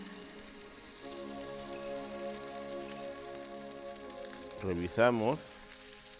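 Sierra fish frying in a little oil over high heat, a steady soft sizzle running under a brief spoken word and a low background hum.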